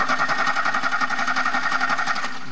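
A car's starter motor cranks the engine during a voltage-drop check on the ground wire, giving a steady, loud buzzing whir with a fast rhythmic pulse that runs unbroken for the whole stretch, no voices over it.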